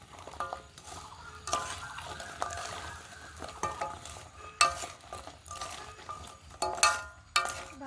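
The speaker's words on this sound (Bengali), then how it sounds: "রসের সঙ্গে ভালো করে একটু নেড়ে চেড়ে মিশিয়ে নেব।" Fried gaja sweets are stirred through sugar syrup in a pan, giving faint, intermittent scraping and light clinking strokes with a few sharper knocks over a quiet background.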